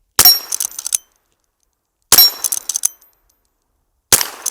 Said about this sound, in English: let me shoot it a few more times, see what these shorts sound like out of it